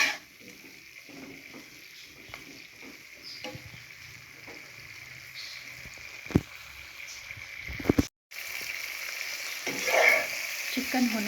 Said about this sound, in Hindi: अब इसमें चिकन को ऑयल के अंदर करने लगी हूँ थोड़ा सा फ्राई